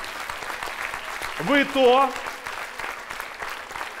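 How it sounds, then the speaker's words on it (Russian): Players and audience at a Brain-ring quiz game applaud in a steady, moderate clatter of clapping, while someone speaks briefly over it. "И я всем вам аплодирую, и вы аплодируете сами себе."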